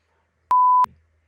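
A single clean electronic bleep, loud and steady for about a third of a second, then a faint low rumble trailing off.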